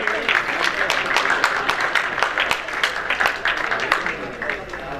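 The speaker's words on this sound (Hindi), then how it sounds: "एक बार जोरदार तालियां मोहम्मद नासिर के लिए" An audience applauding for a student at a school's annual farewell and prize ceremony, sustained dense clapping from a crowd, loud and even across the moment.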